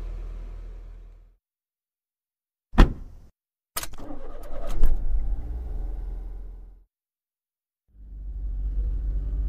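A car engine idles and rumbles, with a door slam, thuds and short clatters, then the engine drones on again after a pause, heard on its own with no talk.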